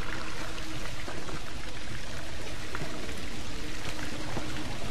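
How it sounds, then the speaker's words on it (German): Continuous water pouring and trickling in The Last of Us, a steady dense wash of splashing that fills the whole stretch without pause. "Da plätschert es wieder."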